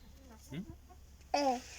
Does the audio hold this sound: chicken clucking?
yes